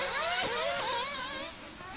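Nitro-powered 1/8 scale off-road RC cars rev their small engines at a race, producing high, wavering whines that rise and fall, fairly loud and a little distant, with no talking.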